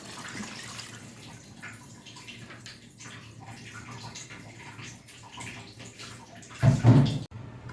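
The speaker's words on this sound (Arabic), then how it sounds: "بتغمريه بالميه" Water is poured over food in a home cooking pot, a brief loud gush near the end after a quiet kitchen background.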